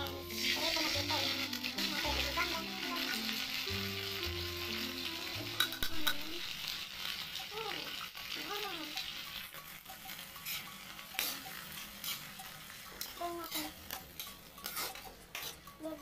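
Sardines simmering in their own broth in a pan while being stirred, a steady close sizzle broken by repeated scrapes and clinks of a utensil against the metal, with music in the background early on.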